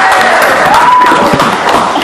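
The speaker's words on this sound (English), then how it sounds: "So give him a round of applause one more time." A comedy club crowd applauds and cheers for a departing stand-up comic, a loud, dense wash of clapping and whoops that fills the room without a break.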